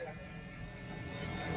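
Electric beard trimmer buzzing steadily while trimming a moustache, a faint, close continuous whirring hum with no talk.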